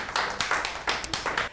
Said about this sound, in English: Let's have a round of applause for Timothy and Ezekiel Jensen with a Gator Bucket.